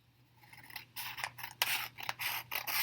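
Scissors snip through paper to cut out word cards, a series of quiet, close, irregular crisp cuts after a near-silent start.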